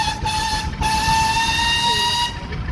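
A steam engine whistle blows one long, steady, shrill tone that holds for several seconds over a low background rumble.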